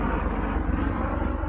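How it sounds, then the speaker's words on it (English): A helicopter passes overhead, unseen behind trees outdoors, producing a loud, steady rotor drone with a rapid pulsing throb across the whole stretch. "excuse the helicopter above us."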